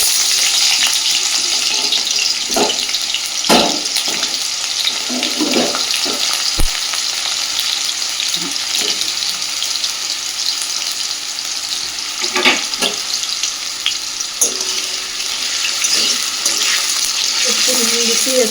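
Thin long potato strips frying in a wok with black cumin tempering, a loud continuous sizzle throughout with occasional clicks and scrapes of stirring, no speech.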